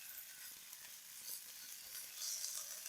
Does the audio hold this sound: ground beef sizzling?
yes